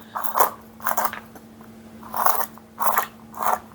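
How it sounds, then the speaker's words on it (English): Cashews, walnuts and hazelnuts are chopped by hand with a knife on a cutting board, giving five separate crunchy chops in uneven rhythm, close and fairly loud, with no talking. "And get all these nuts chopped up."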